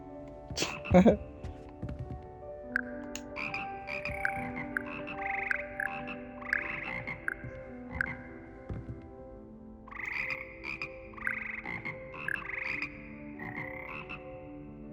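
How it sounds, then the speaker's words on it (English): Frogs croaking in the Hogwarts video game, a steady chorus of short repeated croaks over a busy layered game background, with an occasional spoken word. "Oh, those are frogs."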